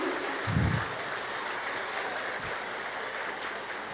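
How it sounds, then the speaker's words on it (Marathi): A crowd claps for child performers at a Maharashtra Day programme, with steady, dense applause throughout and a brief low thump near the start, no voices over it. "एकदा जोरदार टाळ्या होऊन जाऊ दे या बाल कलाकारांसाठी."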